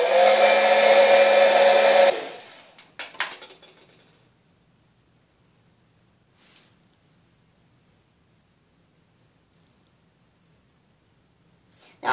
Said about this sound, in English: So I'm just going to heat this up and this up as well,